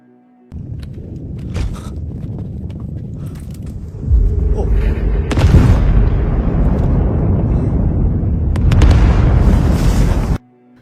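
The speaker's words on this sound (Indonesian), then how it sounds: "kaget dengan ledakan di jembatan" A deep, rumbling explosion-like roar from a bridge explosion swells and sustains for several seconds, loud and heavy, with bursts of crackling debris noise before cutting off abruptly.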